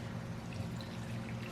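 Hot boiling water poured over tea leaves for marshmallow tea: a soft, steady liquid pour with a faint trickle and a low hum beneath, continuous throughout.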